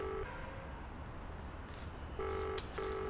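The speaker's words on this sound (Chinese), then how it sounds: "我接电话啊。" An electronic telephone rings indoors with short, faint beeping tone bursts, one alone and then a quick pair, over a quiet background.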